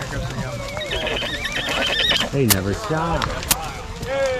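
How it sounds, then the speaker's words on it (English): Several horses, a string of about 19, whinny and neigh nearby on a trail in the Charles C. Deam Wilderness, Indiana, with hooves clip-clopping underneath and a person speaking briefly among them. "There's 19 horses coming through here."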